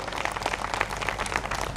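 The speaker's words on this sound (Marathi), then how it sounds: "आपण एकदा जोरदार टाळ्या नक्की" An audience at a Marathi public talk breaks into loud, dense applause, with steady clapping that fills the whole short stretch and no voices over it.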